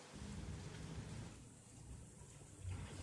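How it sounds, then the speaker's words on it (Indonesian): Steady rain falls throughout, a dense broadband hiss with low rumbling underneath, heard alone with no talking. "ini dalam kondisi hujan nih"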